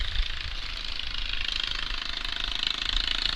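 A racing lawn tractor engine at an outlaw lawn tractor race in Petrolia, Ontario, running slightly low on RPM, drones steadily and close by with a constant rumbling hum and no break in the sound.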